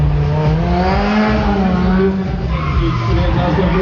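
Drift car engine revving hard at a Bikernieki track drift event, a loud, steady roar with rising and falling pitch and possible tyre squeal, while a commentator talks over it.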